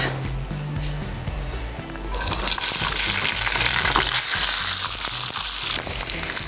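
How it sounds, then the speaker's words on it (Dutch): After a quiet start, a loud, bright sizzle of garlic frying in hot oil bursts in and crackles steadily, close up. "Ik ga vandaag knoflook toevoegen. Ik bak hem in wat olie."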